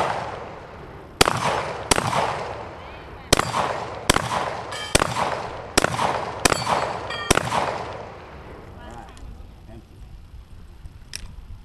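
Gunshots on a shooting competition stage, a series of about nine sharp, loud, close reports fired at an irregular quick pace, each ringing out briefly, then quieter handling noise and faint clinks.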